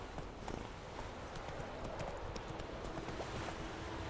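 Roach the horse in The Witcher 3: Wild Hunt clops along at a brisk pace, hoofbeats steady and near against a constant outdoor background.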